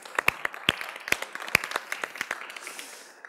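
Sparse applause from a small audience after a talk, a handful of distinct sharp claps spaced irregularly over a few seconds, close and moderately loud with a faint background wash.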